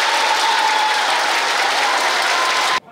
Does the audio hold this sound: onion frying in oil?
no